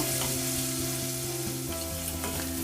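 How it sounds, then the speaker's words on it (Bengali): Onions frying in a pan for a spiced chickpea (chola bhuna) dish give a steady, close sizzle throughout, with faint stirring clinks and no voices. "পেঁয়াজটা আমি একটু ভাজবো, একটু ভাজা হলে তারপরে আমি মশলাগুলি দেব।"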